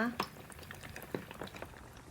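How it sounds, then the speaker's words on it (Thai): Pork pieces fry in hot oil in a pot, with a faint, steady bubbling sizzle and scattered crackles and pops in a quiet kitchen. "ใส่หมูลงไปค่ะ ตอนที่ใส่หมูลงไปนะคะ ระวังน้ำมันกระเด็นใส่ค่ะ"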